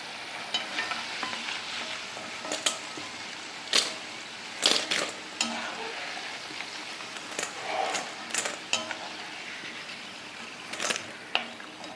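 Slices of nendran banana for chips fry in hot oil while being stirred, giving a steady sizzle broken by irregular scraping and clinking strokes of the spoon.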